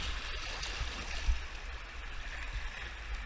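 River water rushes and gurgles steadily through a gorge in the Canadian Rockies, a continuous broadband wash with a low rumble underneath, moderately distant and with no talking.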